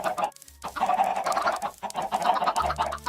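Chickens in the video game Minecraft cluck loudly and repeatedly in a steady run of short calls, with no talk over them.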